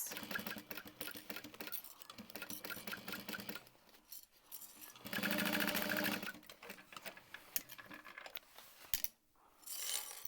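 A sewing machine stitching handbag lining runs in steady mechanical whirring bursts, close and loud, pausing and restarting, with a louder stretch in the middle and small clicks near the end.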